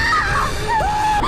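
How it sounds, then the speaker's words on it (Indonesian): A girl screams hysterically while running toward her mother, a sustained high-pitched, wavering shriek that carries loud and close over a dense dramatic background for its full length. "Guofu berlari menjerit menghampiri ibunya"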